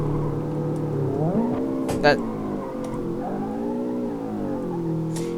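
A Ford Mustang in a driving simulator revving in first gear, its engine tone climbing and dropping through harmonic sweeps, loud and close with a brief burst of noise midway.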